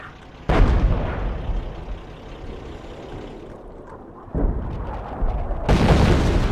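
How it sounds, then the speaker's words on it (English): Artillery barrage in the Company of Heroes war game, Operation Market Garden at Arnhem: loud, close booming blasts break in at the start, again midway and near the end, with rumbling fire sustained between them. "Fire one more barrage."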